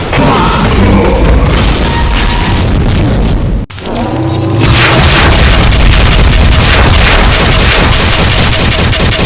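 A Demon Tech Devastator in a Doom mod sets off large, loud explosions, two dense roaring blasts split by a brief gap, packed with crackling bursts and sustained rumble.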